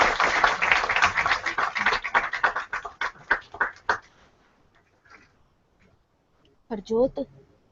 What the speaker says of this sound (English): Please have a big hand of applause for our Director Sir.